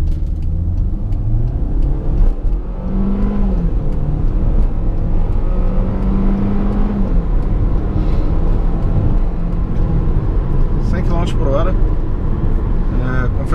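A 2016 Hyundai ix35 accelerating from 0 to 100 km/h, its engine droning loudly and climbing through gears from close inside the cabin, with someone talking over the sound.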